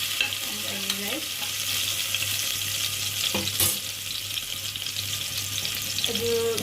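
Ginger and garlic fry in a pan for mutton gravy, giving a continuous bright sizzle with occasional stirring scrapes and a sharp clink near the middle, close and fairly loud, with no talking.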